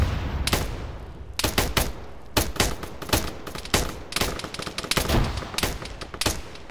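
Sharp bursts of rifle and machine-gun fire in the military shooter Arma during a ShackTac squad fight, loud repeated cracks at uneven intervals, some close and some echoing farther off.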